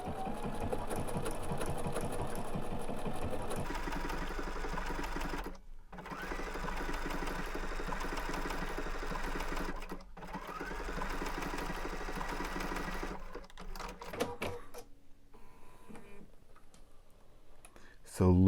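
Bernina sewing machine fitted with edge stitch foot #10 running in steady rapid bursts, close and loud, with brief pauses between runs and a quieter stretch near the end before it stops.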